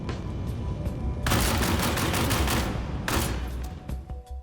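Pulverizer light machine gun fired in Star Citizen, two loud sustained bursts of rapid automatic fire at close range, separated by a short pause, then a quieter tail.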